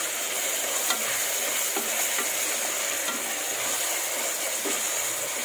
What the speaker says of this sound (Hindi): इन सबको इसमें ऐड कर देंगे और इसे अच्छे से मिक्स कर लेंगे